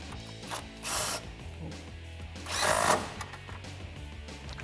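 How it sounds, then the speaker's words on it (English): Ratchet wrench with sockets tightening nuts on a cold air intake heat shield of a 2011-2020 Dodge Challenger 5.7L, close steady clicking with two louder bursts of rapid ratcheting. "Grab your sockets and tighten them down."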